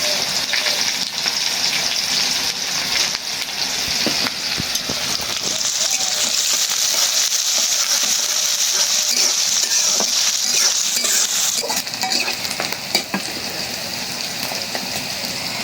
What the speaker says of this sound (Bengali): পেঁয়াজ ভাজা হয়ে গেল